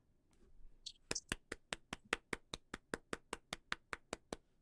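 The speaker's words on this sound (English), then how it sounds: "let's just clap this bitch in" About fifteen sharp hand claps ring out in an even, brisk rhythm close to the microphone, marking the start of a recording after a moment of faint background noise.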